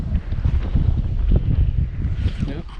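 Strong wind gusts across a lake during bass fishing, a loud, close, low rumbling buffet on the microphone that continues without a break.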